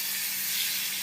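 Chili and ginger sizzle in a hot pan, a steady close hiss of frying with no pauses.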